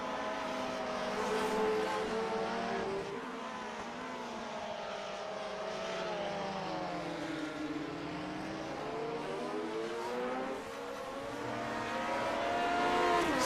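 Vintage Formula One Lotus 49 race cars in the Grand Prix Legends sim racing game at Mid-Ohio, engines wailing and shifting pitch continuously as they accelerate and brake, loud and steady with no talk.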